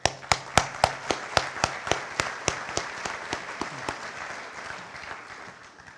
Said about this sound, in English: I need to give you an applause